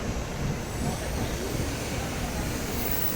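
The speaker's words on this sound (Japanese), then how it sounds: "ただいま到着の列車は21時13分発のぞみ270号名古屋行きです。" A Nozomi Shinkansen bound for Nagoya pulls into Okayama Station at night, a loud, steady broadband rush of train noise filling the platform without a break.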